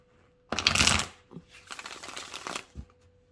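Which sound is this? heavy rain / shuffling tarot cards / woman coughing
shuffling tarot cards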